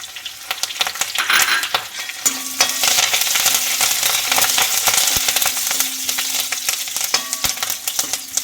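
Ginger, garlic and curry leaves sizzle loudly in a hot frying pan with a steady bright hiss, broken by occasional clinks and scrapes of stirring.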